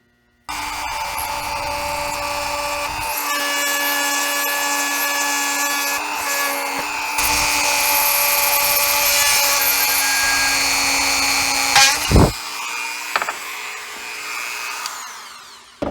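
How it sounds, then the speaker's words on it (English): A power drill whines steadily at high speed for about twelve seconds, pitch shifting slightly as it bites, then winds down with a few clunks. "Now we're going to take this and drill just a tiny little hole completely through."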